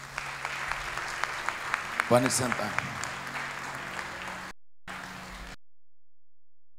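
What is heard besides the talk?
congregation applause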